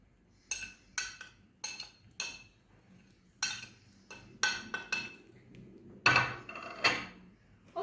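A metal spoon clinks sharply against a cooking pot again and again while red chili powder is added for biryani, about a dozen bright, close taps in a loose, uneven rhythm with quiet pauses between.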